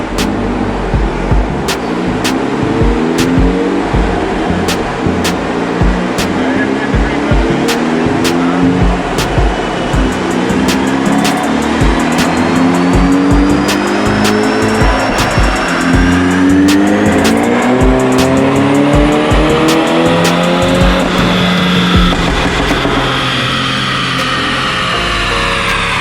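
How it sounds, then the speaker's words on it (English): A modified car with intake and exhaust upgrades revs hard on a dyno during a pull, a loud sustained engine roar that climbs steadily in pitch through the gears, close and dominant throughout. "Set up dyno for a pull."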